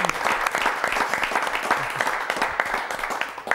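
Crowd applause for a sports team at an Italian TV presentation, dense and sustained for several seconds with many hands clapping, fairly close and steady throughout.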